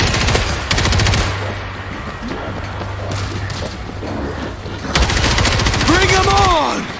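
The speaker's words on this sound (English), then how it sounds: "I got an auto turret running!" Rapid automatic gunfire from an auto turret in the zombie shooter World War Z Aftermath, loud sustained bursts with brief gaps, a character's voice calling out near the end.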